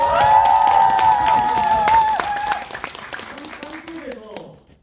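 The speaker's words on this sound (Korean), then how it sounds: "다시 소리내서 한번 저희 한번 힘차게 박수 한번 쳐볼까요?" A cinema crowd at Lotte Cinema Konkuk University applauds and cheers during a stage greeting for the film Dog Days, with clapping and excited shouting under a speaker's voice before the noise fades out.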